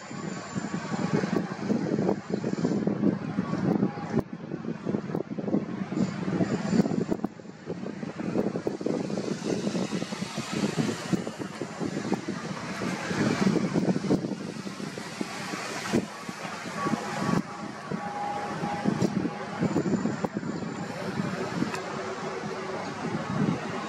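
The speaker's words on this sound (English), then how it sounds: "Really windy." Strong outdoor wind roars and buffets the microphone continuously for the whole stretch, a dense rushing noise with gusty swells and no voices.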